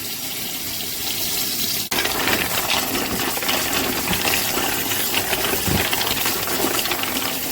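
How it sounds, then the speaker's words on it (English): Cold tap water gushes steadily over mussels in a sink after a brief click, a loud continuous splashing rush with some clattering underneath. "Just run it under cold water."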